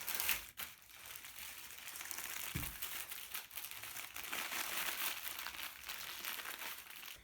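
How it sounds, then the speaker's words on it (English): Greaseproof paper crinkles and rustles as homemade sweets are wrapped in it. Soft, close, continuous crumpling with a few sharper crackles and no talking. "I'm going to wrap those up in some greaseproof paper."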